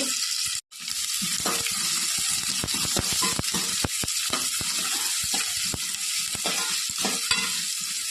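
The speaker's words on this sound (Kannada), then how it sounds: "ನಸು ಬಣ್ಣ ಬರೋ ತನಕ ಇದನ್ನು ಫ್ರೈ ಮಾಡಿಕೊಳ್ಳುವ ಈರುಳ್ಳಿಯನ್ನು" Chopped onion with curry leaves and urad dal frying in two tablespoons of hot oil, a close continuous sizzle broken by repeated sharp stirring taps and scrapes of a spoon against the pan.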